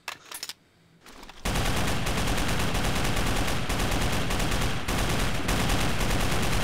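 A Degtyarev machine gun in Garry's Mod fires a few short bursts, pauses briefly, then opens up in a long, loud, unbroken stream of rapid automatic fire.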